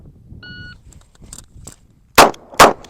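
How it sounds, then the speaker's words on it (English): Two sharp, loud gunshots from a Kimber K6 revolver ring out close together, each a sudden blast that fades quickly. Quieter clicks and a short electronic beep come before them. "We'll go ahead and fire 2 shots"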